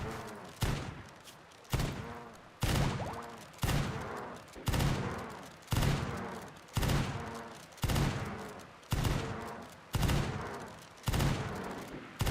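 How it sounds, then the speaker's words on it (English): Repeated gunfire in Rimworld, a steady series of about a dozen loud sharp shots at roughly one-second intervals, each with a short decaying tail. "Can you shoot him in the brain, please?"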